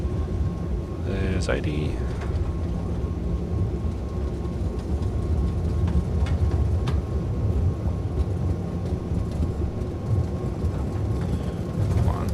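A CRJ-200 in a flight simulator rolls down the runway for takeoff, its engine thrust a steady loud broadband roar, while a voice briefly calls out over it.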